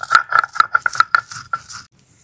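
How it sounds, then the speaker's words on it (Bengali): Roasted spices with salt and turmeric being ground, about ten quick, rhythmic rattling strokes close by before stopping. "ভাজা মশলাটা বেটে নেব।"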